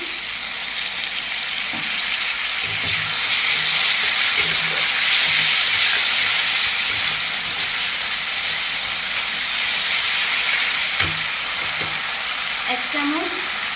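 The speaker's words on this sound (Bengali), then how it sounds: "সামান্য একটু জল দিয়ে দিচ্ছি" Spices such as cumin and coriander powder fry in a pan for a rohu fish curry, and a splash of water sets off a loud, steady steaming hiss and sizzle with occasional stirring clinks.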